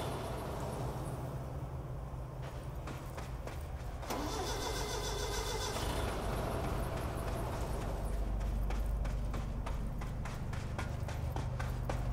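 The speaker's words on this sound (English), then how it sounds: "The forklift must be stopped." A forklift engine in the video game Control starts up and runs, a steady mid-pitched mechanical drone with rhythmic clattering pulses, heard alone and fairly close.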